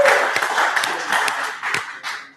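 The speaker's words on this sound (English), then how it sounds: "Round of applause for Ivan." A short burst of clapping and applause from a small group, scattered hand claps continuing steadily for a couple of seconds.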